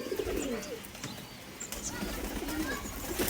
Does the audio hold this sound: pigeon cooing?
yes